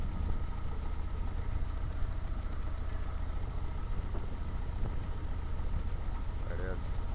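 An Atomic 4 inboard engine on a sailboat in Florida runs with a steady low rumble and idling vibration, close by and continuous, with a faint brief tonal sound near the end.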